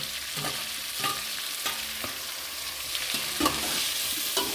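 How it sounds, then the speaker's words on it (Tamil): Four tomatoes are stirred and sautéed in a pan for a soya chunk curry: a soft, steady sizzle with repeated spatula scrapes at a loose, regular pace, close up, with no speech. "நல்லா கிளறி விட்டுக்கோங்க. இதுவும் கொஞ்சம் வதங்கணும்."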